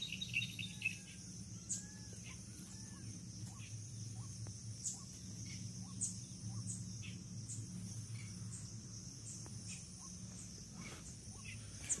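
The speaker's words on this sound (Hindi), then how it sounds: "यहाँ पर चिड़िया तो है" Birds call in the open wetland of Keoladeo National Park, Bharatpur, Rajasthan: scattered short chirps and whistles at moderate distance over a constant high insect drone, with no talking.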